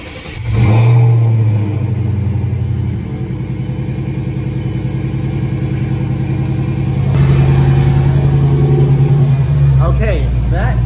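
A Mercedes CLK500 W209 V8, just back together after a valve cover gasket job, cranks and catches into a rough, loud idle, then revs up and settles, with a person speaking briefly over it near the end.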